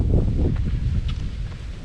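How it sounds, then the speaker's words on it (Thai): Strong wind buffets a mountaintop near the Thai-Myanmar border, a loud, steady low rush of gusts against the microphone lasting a couple of seconds, with no talking. "ลมแรงมากนะครับทุกคน"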